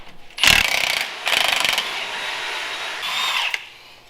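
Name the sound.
power tool bolting parts back onto a Jeep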